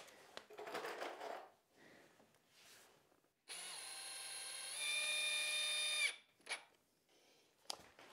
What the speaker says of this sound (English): pop in a screw right into that wall